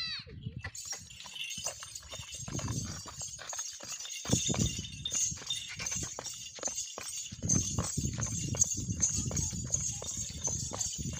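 A Marwari mare's hooves clip-clop in an irregular, prancing rhythm as she dances, close and fairly loud, with people talking intermittently over the stamping.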